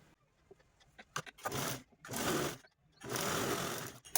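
A sewing machine stitching a zip onto cloth, running in several bursts of rapid needle chatter separated by pauses and faint clicks, close up and without talk.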